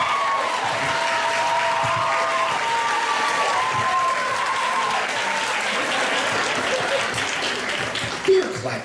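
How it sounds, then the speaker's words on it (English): Studio audience at a fan convention panel breaks into sustained applause and cheering, a dense, steady wash of clapping lasting throughout, with voices calling out over it. "Don't clap for that."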